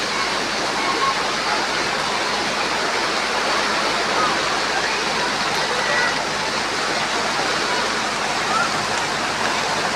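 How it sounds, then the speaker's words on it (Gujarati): A dense, steady roar of heavy unseasonal rain in Lakhanka, Bhavnagar district, Gujarat, pours without pause, loud and close, with no voices standing out. "અત્યારે તો વરસાદ ધબધબાટી બોલાવે છે"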